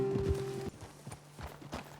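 Horse hooves clip-clopping in Red Dead Redemption 2, a few near, uneven steps that are fairly quiet, with a low tone fading early.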